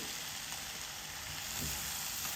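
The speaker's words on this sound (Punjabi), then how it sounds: "ਹੁਣ ਇਸ ਵਿੱਚ ਆਪਾਂ ਹਰੇ ਮਟਰ ਪਾ ਦੇਵਾਂਗੇ" Green peas hitting hot spiced masala in a pan, setting off a steady, bright sizzle and frying hiss that stays even throughout, close and alone.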